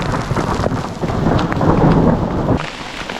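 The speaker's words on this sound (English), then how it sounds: "Oh, that was lightning." Thunder rumbling after a lightning strike during a heavy storm on a backpacking trip, loud rolling booms over the hiss of falling rain, continuing for several seconds before easing off, no voices.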